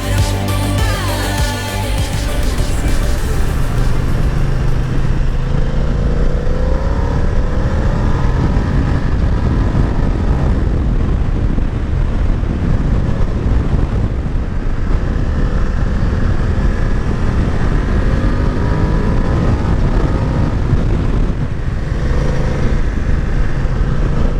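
A BMW F 900 XR TE motorcycle under way, its engine droning loudly and continuously with shifting pitch as it accelerates, mixed with heavy wind rush and no talk.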